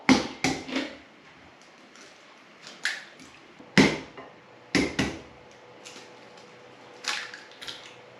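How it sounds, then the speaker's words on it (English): Two large eggs cracked into a bowl for a courting cake, heard as a series of sharp close taps and cracks with soft wet drips between them. "we're going to break some eggs"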